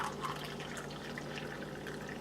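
Warm water poured from a pot for bread dough, a steady continuous splashing trickle that holds level throughout, moderately close with no talking.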